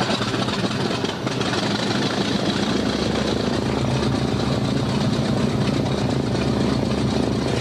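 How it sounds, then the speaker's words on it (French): A B-25 bomber's 14-cylinder piston engine drones loudly and steadily, a dense continuous roar with a throbbing low rumble and no voices. "Écoutez juste le bruit de ce moteur."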